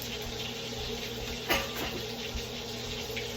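An onion is rinsed under a running kitchen tap, with a steady moderate water stream and a brief clatter partway through.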